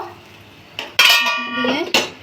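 A spoon clatters against a metal pot while egg curry gravy is stirred, giving a few loud close scrapes and clinks in short bursts.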